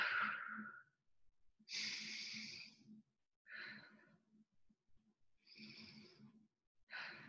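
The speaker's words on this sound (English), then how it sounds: "Let's take those three mindful breaths right now." Slow breathing exercise: a few long, soft inhales and exhales with quiet pauses between, close and gentle, no speech.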